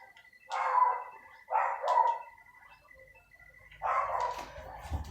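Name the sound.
dog barking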